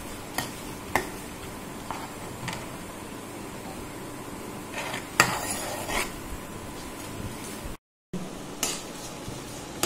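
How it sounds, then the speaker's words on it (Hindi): Almonds being stirred continuously while roasting in a pan for gond panjeeri, giving soft scraping and occasional sharp clicks of a spoon against the pan, close and fairly quiet, with a brief silent gap near the end. "लगातार चलाते रहेंगे जिसे हमारा बादाम जो है वो काला ना पड़ जाए"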